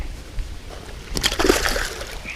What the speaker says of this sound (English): Back in the water.